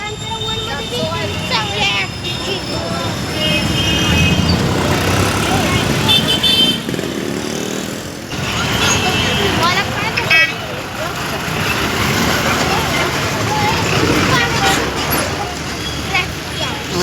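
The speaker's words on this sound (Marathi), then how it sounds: "स्टँडला आली बघा आता गर्दी बघा किती टेन्शनच आहे बघा आता भरपूर गर्दी आहे" A crowded bus stand in Satara fills the air with loud, continuous crowd babble, motorcycle and car engines, and occasional horn toots, all close and steady throughout.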